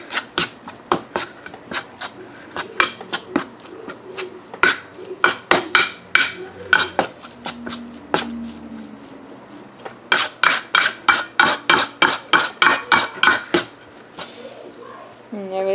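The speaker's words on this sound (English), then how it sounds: "We're gonna stir all this in" Homemade sausage meat being stirred in a bowl, giving repeated scraping, clattering strokes in uneven bursts, with a quicker run of sharp strikes near the end.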